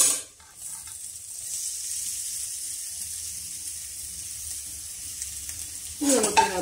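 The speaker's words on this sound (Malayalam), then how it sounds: "നമുക്ക് അതിനകത്തിട്ട് നമ്മുടെ കോവയ്ക്ക് വഴറ്റി വഴറ്റി വഴറ്റി അങ്ങനെയാണ് വഴറ്റിയെടുക്കണം" Ivy gourd (kovakka) stir-frying in a pan, a steady, fairly loud sizzle held close throughout, with a burst of scraping stirring near the end.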